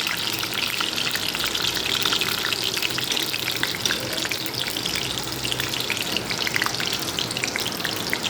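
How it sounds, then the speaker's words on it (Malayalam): Mustard seeds spluttering in hot coconut oil, a dense, continuous crackle and sizzle with rapid popping close by, with no talking. "കടുക് പൊട്ടുന്നുണ്ട്"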